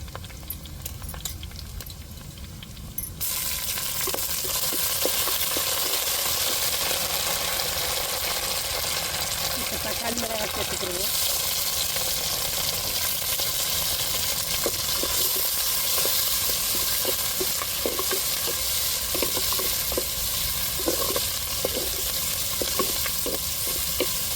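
Curry leaves hit hot oil in a pan of conch meat curry with chopped big onions. After a few quiet seconds a loud, steady sizzle starts and keeps going, with light stirring clatter and no talking.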